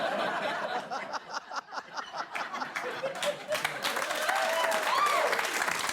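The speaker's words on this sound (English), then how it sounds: "Clapping for Hitler." A studio audience at a late-night comedy show clapping, bursts of applause mixed with chuckles and scattered laughter, building to steadier clapping near the end.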